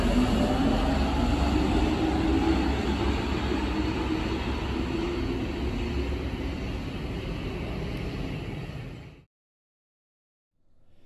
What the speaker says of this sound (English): To understand what makes the 96 stock sound so special